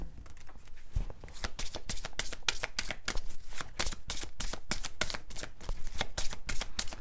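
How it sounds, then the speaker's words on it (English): Tarot cards are shuffled by hand, a fast, steady run of crisp riffling flutters and slaps close up, continuing for several seconds with no talk. "So the cards are ready, but I just kept on shuffling."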